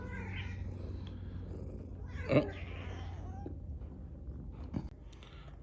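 A blind cat gives a couple of faint, brief meow-like calls against a steady low indoor background, with a short spoken exclamation nearby.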